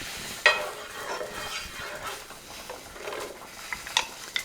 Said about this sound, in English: we're going to put a little bacon grease in the bottom of this pan, and we're going to saute our onions in this